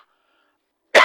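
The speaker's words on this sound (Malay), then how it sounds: "Batuk sikit." Near-silence, then one sudden, sharp cough bursts out close by at the very end.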